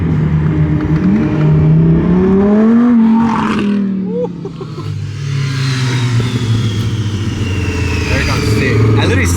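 A Lamborghini revs hard while racing a motorbike in the street, loud, rising engine tones sweeping up then dropping and building again, with people talking over the roar.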